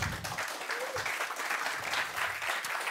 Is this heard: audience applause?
yes